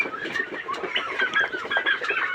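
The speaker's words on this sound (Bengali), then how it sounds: "আমাদের কাছে বিভিন্ন বয়সী বাচ্চা রয়েছে টার্কির বাচ্চা রয়েছে" A busy flock of turkey chicks peeps and chirps continuously, many overlapping high calls close by with no pauses.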